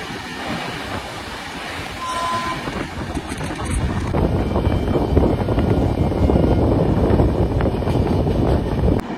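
A passenger train rolls steadily along the line toward Jhargram, its broad rumble growing louder after a few seconds, with wind buffeting the microphone and no talk.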